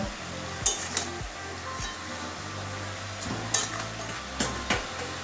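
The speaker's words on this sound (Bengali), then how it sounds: "এবারে আবারও মিশিয়ে নেব নুন দিয়ে, সব এভাবে মিশিয়ে ঢাকা দিয়ে রান্না করে নেব" Spinach being stirred with a fish head and salt in a frying pan, a gentle sizzle under repeated scraping strokes and a few light clinks of a spoon against the metal, close up, no talking.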